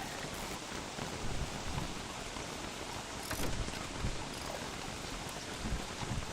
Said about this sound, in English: It's just raining all the time.